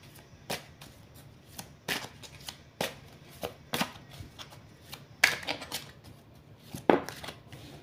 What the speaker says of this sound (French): Vous mélangez votre jeu et vous choisissez une petite carte au hasard.